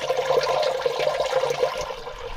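A stream of water fed by an underground source in the Scottish hills rushes and gurgles steadily close by, a continuous bright splashing with no voices.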